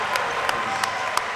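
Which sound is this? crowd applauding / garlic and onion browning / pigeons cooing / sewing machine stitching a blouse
crowd applauding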